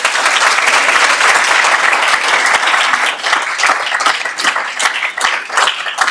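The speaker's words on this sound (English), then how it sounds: "We could give them a round of applause." A school board meeting audience applauds a section-winning cheerleading team with sustained, dense clapping from a roomful of people, strong and even at first, then thinning into more scattered claps toward the end.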